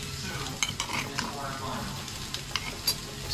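A spoon stirs potato samosa filling with coriander, cumin and spices in a hot pan, a steady close sizzle with light scraping clicks throughout.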